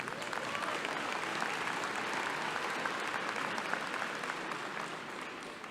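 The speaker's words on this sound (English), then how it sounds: "give her a round of applause" Applause at the 2025 Mott Community College commencement, a large audience clapping steadily from a distance, even and sustained before slowly tapering off, with no talking over it.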